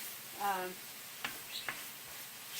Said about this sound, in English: We're going to cook this for 5 to 6 minutes until everything is kind of cooked down and translucent